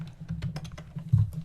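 Quick, uneven clatter of keys on a computer keyboard, a dozen or so close, soft taps with one heavier thump near the end, no voices.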